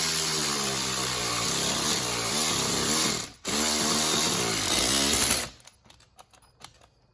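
A ratchet snugging down the head bolts on a Chevy engine gives two long, loud bursts of motorized whine, broken by a brief gap, then a few scattered faint clicks near the end.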